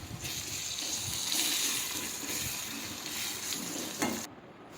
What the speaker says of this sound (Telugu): మంచిగా వేగనివ్వాలి. అది ఎంత బాగా ఫ్రై అయితే అంత బాగుంటుంది.